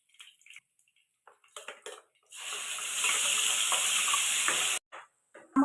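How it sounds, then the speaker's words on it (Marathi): Cumin seeds dropped into hot oil for palak paneer, a sharp bright sizzle bursting up and holding for about two and a half seconds, framed by soft clinks of a spoon and pan before and after. "तेल आता तापले, आपण आता यामध्ये जिरं घालून घेऊया"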